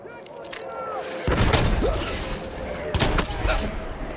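Gunfire in the video game Battlefield 1, bursts of shots and booms loud and close over a battle din, with someone talking over it.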